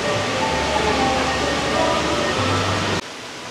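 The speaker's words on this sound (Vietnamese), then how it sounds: "tiếng nước chảy róc rách." An indoor fountain in a Jakarta shopping mall gives a steady rushing, splashing water sound, fairly loud and close, that drops off abruptly near the end.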